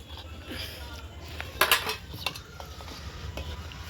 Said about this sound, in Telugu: ఇంక ఇప్పుడు ఈ ఉసిరికాయ ముక్కలు మనం ఇందులో వేసుకుందాం